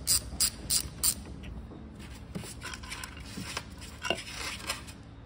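A ratchet wrench unthreading a valve cover bolt on a GY6 or QMB139 scooter engine, with a few quick close clicking bursts at first and then quieter, steadier turning in a quiet workshop.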